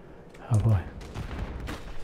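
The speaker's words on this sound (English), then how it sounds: "Grenades and all sorts of shit going on." Call of Duty combat with grenades and gunfire, a burst of heavy thuds followed by scattered shots under a talking voice.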